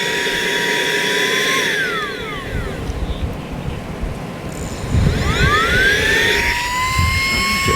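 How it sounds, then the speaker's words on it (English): A Saker 3 in 1 cordless vacuum cleaner runs loud and steady the whole time, its motor whine rising and falling in pitch as it is switched or shifts load, with no speech over it. "Really got nice suction, and I ain't even charged it up yet"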